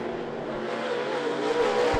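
Late model race cars at I-75 Raceway roaring down the back straightaway during a heat race, a steady engine drone from a distance that swells slightly toward the end.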